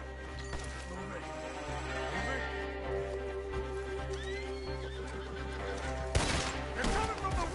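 A horse neighs loudly with hooves clopping, set against steady game music and a sudden crash near the end, in the video game Red Dead Redemption 2.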